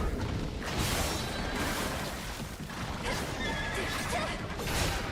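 A horse creature in the Stellar Blade video game neighs loudly amid dense, noisy combat sounds, with hoof clatter and crashing effects filling the whole stretch.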